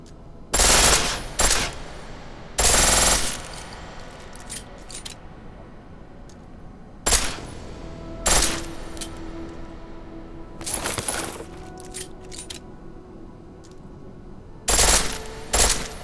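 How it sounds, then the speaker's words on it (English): A pistol firing in full auto in Deus Ex: Mankind Divided, loud sharp bursts of rapid shots spaced by quiet gaps, with faint mechanical clicks between them. "The pistol in full auto will take down targets fast, but it'll burn through your ammo."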